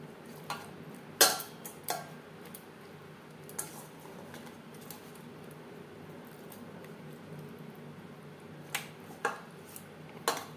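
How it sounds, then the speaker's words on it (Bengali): Pieces of katla fish are worked together with turmeric and salt in a bowl, producing soft squishy handling under a quiet background, broken by a few sharp clinks and taps against the bowl. "লবণ হলুদ দিয়ে মাছ বেশ ভালো করে মেখে নেব"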